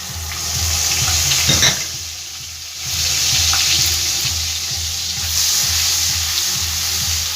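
Onion paste fries in a hot pan with a loud, steady sizzle that swells and dips as it is stirred, with no talking over it.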